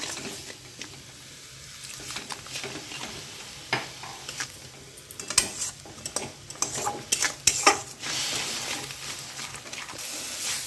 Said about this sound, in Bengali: অল্প করে একটু জল দিয়ে ভালো করে মশলাটা কষিয়ে নিচ্ছি।